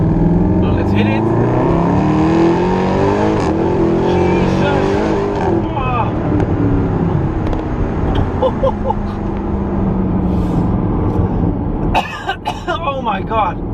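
Mercedes AMG SLS with its 6.2-litre V8 pulls hard and loud under throttle, a dense rising engine roar filling the cabin, with wheel spin at launch and a brief squeal-like burst near the end; a person coughs or clears their throat along the way.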